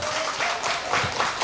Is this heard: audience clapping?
yes